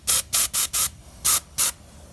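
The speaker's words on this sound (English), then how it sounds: "Make sure you also spray your propeller" Aerosol spray paint hissing onto the propeller of a model float plane in six short bursts, four quick ones then a pause and two more, close and loud with no talk.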